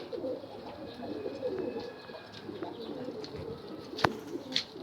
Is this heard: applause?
no